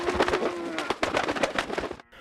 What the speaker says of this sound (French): Le pigeon, il est venu près de ma cabane.